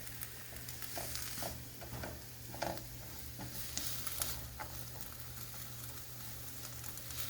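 Butter sautéing in a pan on a stovetop set to heat level 5 while making an omelet, a soft steady sizzle with occasional stirring scrapes over a constant low hum.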